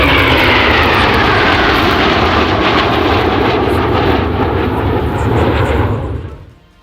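A Eurofighter fighter jet flying past, a loud sustained roar with a sweeping pitch shift as it passes, fading away at the end.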